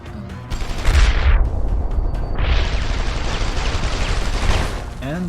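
Grenade blasts and gunfire in Deus Ex: Human Revolution, heard as a loud rumbling explosion that swells and fades, then a second booming burst with crackling shots throughout, and a voice faintly present near the end.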